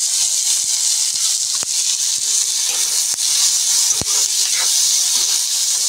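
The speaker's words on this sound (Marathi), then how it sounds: "आता आपण मसाला भाजून घेऊया, कारण की चुलीवर मी चिकन घातलं आहे" Spices dry-roasting in a pan on a wood-fired clay chulha, chicken rassa being made village-style, give a steady broad hiss and sizzle throughout, with a few faint clicks and taps but no talking.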